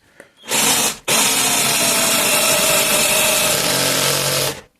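An Einhell TE-CD 18/40 Li BL cordless drill whirs loudly up close, stops briefly, then drives steadily for several seconds before its clutch slips and it cuts out.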